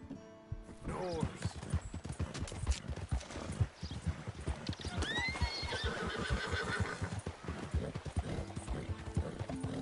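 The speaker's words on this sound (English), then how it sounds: "Horse." Horse in Red Dead Redemption 2 whinnies clearly while steady clip-clop hoofbeats continue throughout, close and prominent with a game-world farm ambience.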